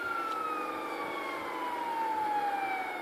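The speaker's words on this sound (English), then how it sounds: "We need the ambulance right now." A wailing ambulance siren in the game GTA V sweeps slowly downward in pitch, steady and fairly loud, with no voices over it.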